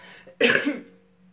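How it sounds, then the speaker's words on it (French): A single short, rough cough, close and fairly loud, in an otherwise quiet room. "je tousse encore"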